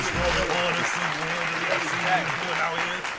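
Sustained applause from an audience welcoming a battle rapper, a dense steady wash of clapping with some crowd noise and whoops underneath, lasting the whole stretch at even loudness.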